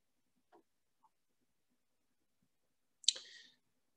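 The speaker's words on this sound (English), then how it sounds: "When you're ready, click on next." A computer mouse clicks faintly a couple of times in a quiet room, followed by a sharper, louder click near the end.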